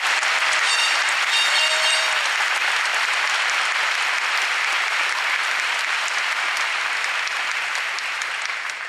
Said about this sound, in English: One more round of applause for Stephanie, please.